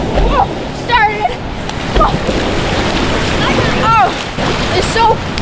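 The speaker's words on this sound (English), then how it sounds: "The waves are so big." Big ocean waves splash and slosh nearby in rough, wind-blown water, with bursts of surf under people talking and calling out.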